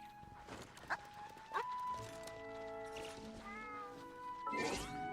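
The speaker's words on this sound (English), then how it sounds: "There's a cat here." Several cats meow repeatedly inside a Genshin Impact teapot realm, the game's backing music playing steadily underneath; the calls are near and clear, rising and bending in pitch, with a louder cluster near the end.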